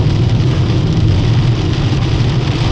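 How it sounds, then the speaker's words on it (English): Heavy storm rain pouring down outdoors, a loud, steady, dense roar of drops hitting surfaces with no break, dominated by low rumbling wash. "It is raining so hard right now,"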